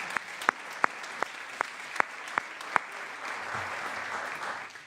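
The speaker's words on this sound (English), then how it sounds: "That in of itself deserves a round of applause." Applause at a legislative floor session honoring a couple married over 60 years: a room of clapping with several crisp, evenly spaced claps from one nearby person over a softer wash that gradually fades.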